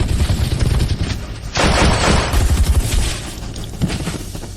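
Rapid bursts of gunfire crackle loudly and continuously in an action gang shootout scene, with a dense barrage swelling midway before easing into scattered shots.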